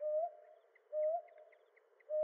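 Hume's hawk owl calling in the Andaman Islands: three clear, close, mellow hoots evenly spaced about a second apart, each slightly rising then holding, against a quiet background.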